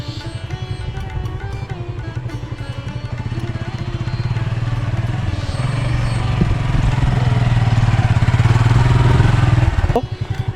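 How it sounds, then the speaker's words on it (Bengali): A motorcycle ridden along a village road, its engine putting steadily and building louder as it revs, with a rattle of the machine over the uneven surface and a brief clatter near the end. "পাপুলের কাছ থেকে বাইকটি আমি নিয়ে নিলাম"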